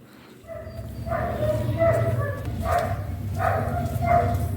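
A puppy gives several short, yipping barks in an outdoor home setting, spaced out over a steady background hum.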